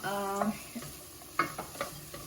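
Red and green capsicum sautéing in a pan, with a soft sizzle under a few scraping stirs and light utensil knocks against the pan, close and fairly quiet.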